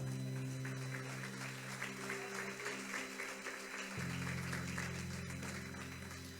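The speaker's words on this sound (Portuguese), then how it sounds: "dê uma salva de palmas a Ele e um grito de aleluia" A church congregation at a family worship service claps steadily, a sustained wash of applause running throughout under a held musical drone that shifts pitch midway.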